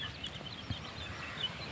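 A hen and her two chicks cluck softly in a coop, with brief scattered clucks and faint peeps over a steady low background hum, no voices.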